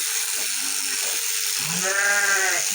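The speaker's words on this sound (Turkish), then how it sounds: "Gördüğünüz gibi koyunları kırpıyoruz." A steady electric buzz of shearing clippers on sheep runs throughout while a sheep bleats loudly near the end.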